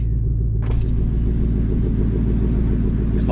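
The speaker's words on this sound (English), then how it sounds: "I missed the crack of the throttle when you really give it to it" A 2014 Mustang GT V8 running through straight pipes, a loud, deep and steady idle rumble close by, with a brief hiss or rasp partway through and no talking.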